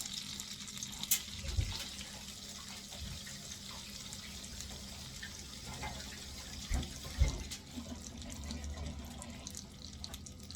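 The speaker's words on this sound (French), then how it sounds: "Je me lave les mains, je reviens." Hands being washed under a kitchen tap while cooking frikadellen, a faint steady trickle of running water with soft splashes and a few louder bumps, no talking.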